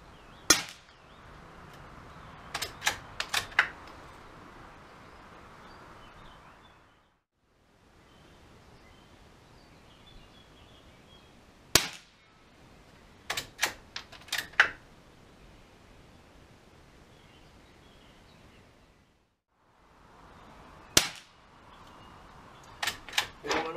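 Suppressed .22 rifle shots with Winchester Long ammunition, fired in quick clusters of three to five sharp, quiet cracks and clicks, separated by pauses, recorded close with faint background noise.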